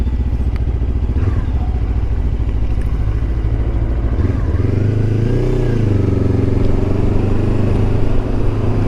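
A Lifan KPT 400 motorcycle fitted with a swapped front sprocket roars loudly as it accelerates along a road. Its revs climb, break briefly for a gear change midway, then rise again in a close, continuous drone.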